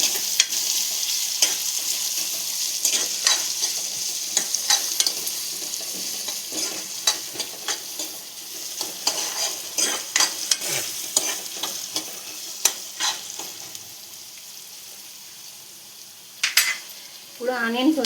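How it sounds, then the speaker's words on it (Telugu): Carrots frying in hot oil while being stirred for a puri curry: a steady, close sizzle throughout, broken by frequent scraping and clinking stirs against the pan, the hiss easing slightly toward the end. "క్యారెట్ కూడా మంచిగా ఫ్రై అవ్వాలి ఆయిల్లో ఫ్రై అయ్యి మంచిగా ఉడుతుంది"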